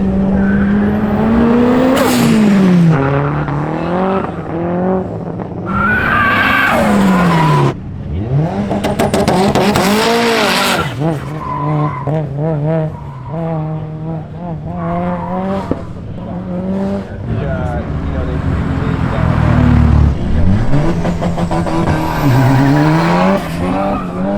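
Cars at an autocross section of a DSM, Evo and GT-R race event, engines revving hard and shifting pitch as tires skid and squeal, loud and continuous with repeated acceleration runs.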